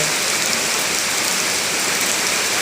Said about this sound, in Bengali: দেখেন বাইরে বৃষ্টি হচ্ছে।